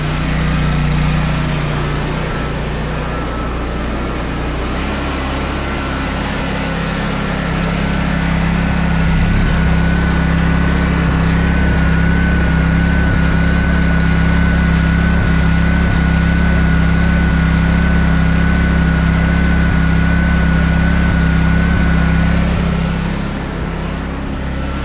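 Small engine on a homemade mini skidsteer snowblower, running steadily at high RPM with a loud, sustained droning whine and faint rattles throughout.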